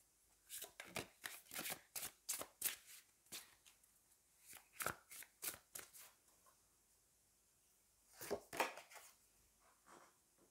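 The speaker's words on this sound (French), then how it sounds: "on prend une dernière carte de tarot" Tarot cards are shuffled and drawn in a quick series of crisp flicking and riffling bursts, with a denser flurry near the end, close and fairly quiet against a silent background.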